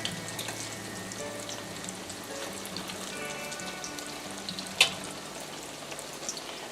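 Continuous sizzling and crackling of eggplant slices frying in a pan, steady and close, with one brief sharp tap midway and no talking.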